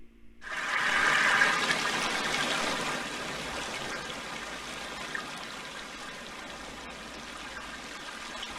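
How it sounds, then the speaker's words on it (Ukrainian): Mountain river water rushing steadily in winter, a broad continuous flowing roar that swells in the first seconds and then holds a constant, even wash with no voices. "хвилинка релаксації з мелодією звучання гірських річок"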